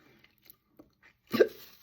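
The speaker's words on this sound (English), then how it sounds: "Oh, hiccups." A single sharp hiccup from an elderly person during a quiet morning routine, loud and close after a few faint small sounds.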